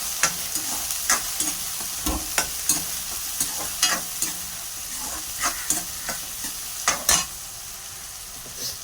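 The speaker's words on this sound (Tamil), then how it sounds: "லைட் ப்ரௌன் அதுமாரி ஆகிடுச்சுன்னா வெங்காயத்தை போட்டுடலாம்." Onions, both small and large, fry in hot oil for a garlic kulambu, giving a steady close sizzle broken by repeated sharp clacks of a spoon stirring against the pan, with no talking.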